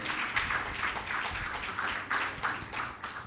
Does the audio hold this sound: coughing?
no